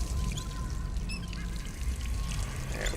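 Running water from a faucet in Dishonored 2 as the player character drinks, a continuous close pouring and splashing with faint game ambience over it.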